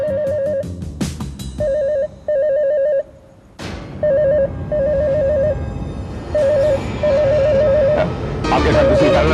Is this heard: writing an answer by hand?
no